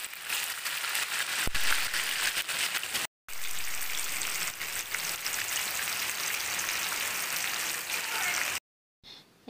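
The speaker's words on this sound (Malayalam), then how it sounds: "ഇപ്പോൾ പുറത്ത് നല്ല മഴയാണ്." Heavy rain falling outside a house sit-out, a dense continuous hiss of drops on surfaces that runs steadily, broken by two short silent gaps.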